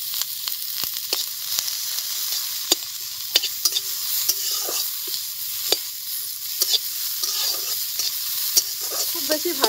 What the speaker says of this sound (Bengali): কড়ার মধ্যে আরো অল্প একটু তেল দিয়ে দিচ্ছি। এবারে এর মধ্যে দিয়ে দেব 2টো মিডিয়াম সাইজের পেঁয়াজকে কুচিয়ে রেখেছি। এটা হালকা একটু ভেজে নেব।